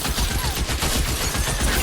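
Gunfire from big guns in the L.A. Noire video game, a steady dense rattle of rapid shots with heavy low thumps, continuous and fairly loud throughout.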